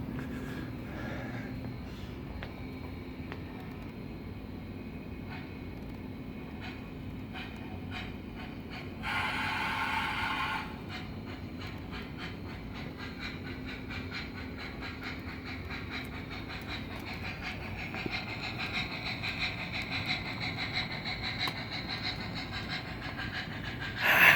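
Model train on an ICRR Mountain and NYC Express layout rolling back into a siding, a steady faint rumble and clatter of wheels on track with a short hissing burst partway through, no talking.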